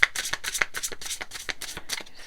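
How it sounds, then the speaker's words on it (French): Tarot cards being shuffled by hand in a quiet room, a quick series of crisp riffling bursts in an irregular rhythm, close and fairly soft. "on va continuer à battre les cartes"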